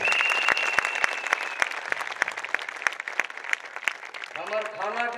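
Loud crowd applause fills a Hindi-language public gathering, dense clapping running throughout with sharp individual claps standing out, while a voice speaks over it near the end.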